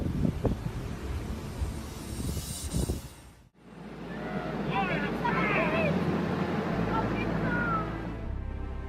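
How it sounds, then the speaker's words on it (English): Strong ocean waves pounding over a seawall in Scituate, Massachusetts, with a loud rushing surge and heavy wind buffeting the microphone, broken by an abrupt cut and then a sustained roar with faint cries in the background. "It looks like strong ocean waves overwhelmed the seawall in Scituate, Massachusetts"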